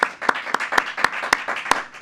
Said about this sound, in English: So give the boys and girls a big round of applause